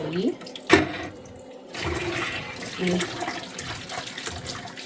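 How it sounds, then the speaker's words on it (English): Water pours and splashes out of a dye pot holding pink angora fiber and a splash of vinegar, a few short gushes and trickles heard close and fairly quiet, with no talk over them. "kind of get some of this water out of here"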